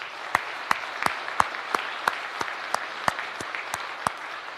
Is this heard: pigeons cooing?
no